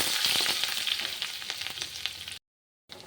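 A pinch of asafoetida and ginger fry over a low gas flame, sizzling loudly and steadily while being stirred, then cutting to brief silence before the frying resumes.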